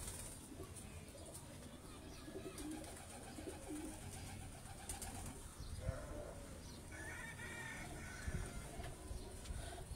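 Golden bloodline pigeons coo softly in a loft, low murmuring calls repeating amid faint background chatter and rustling, fairly quiet and close throughout.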